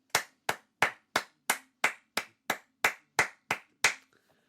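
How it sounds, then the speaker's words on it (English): A single person claps their hands alone, eleven crisp, evenly spaced sharp claps at a steady rhythm, close and clear, then stops. "This is a genuine clap."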